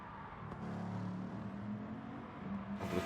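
A race car in a racing video game hopping over a curb: a steady close engine drone with a brief thump and a louder revving swell near the end, no voices.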